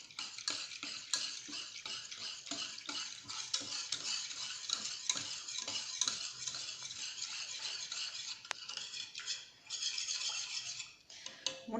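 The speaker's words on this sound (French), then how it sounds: "et on rajoute le lait en poudre. Et on mélange bien à l'aide d'un fouet." A wire whisk beats powdered milk into a crème caramel mixture in a bowl, giving a steady, rapid run of close scraping and clinking strokes with no pauses.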